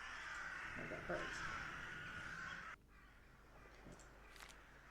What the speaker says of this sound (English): I got birds.